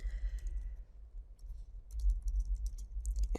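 HTML paragraph text is typed on a computer keyboard in quick, light bursts of key clicks with short pauses between, close and fairly quiet.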